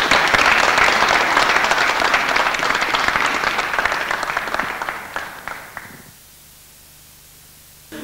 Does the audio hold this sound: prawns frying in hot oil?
no